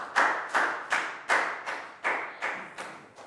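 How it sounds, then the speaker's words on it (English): Eight sharp, evenly spaced claps ring out in a Year 4 science classroom, a short rhythmic round of applause, moderately loud with a brief room echo after each. "Round of applause for Pat."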